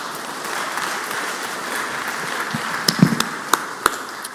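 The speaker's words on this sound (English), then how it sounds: "Let's give him a round of applause." A round of applause fills the Mississippi Senate chamber, steady clapping from many hands in a large room with a few louder sharp claps near the end, no talking.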